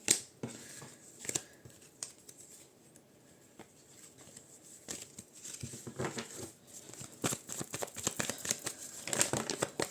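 A deck of oracle cards being handled at close range, with papery crinkling, shuffling and flicking of cards in uneven bursts that grow busier toward the end, no talking.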